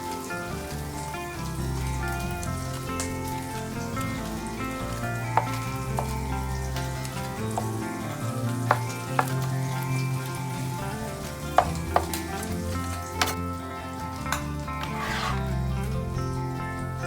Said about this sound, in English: I give the patties a fine chop and return the meat to the skillet